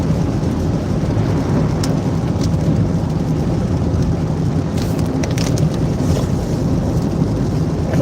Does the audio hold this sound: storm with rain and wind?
yes